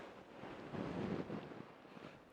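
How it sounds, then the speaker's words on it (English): Wind gusts across an open bikepacking camp spot along the Baja Divide, a steady broadband rush that swells in the middle and stays fairly faint, with no one talking. "It's kind of windy though."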